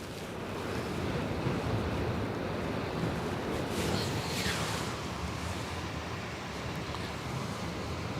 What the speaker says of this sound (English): Oh, look at the waves on her bow,